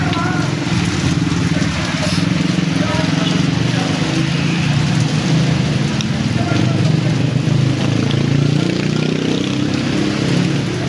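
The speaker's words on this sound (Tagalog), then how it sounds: "Taas ng ulan" Heavy rain pours down in a steady, loud hiss, with a low rumble beneath and voices talking through it.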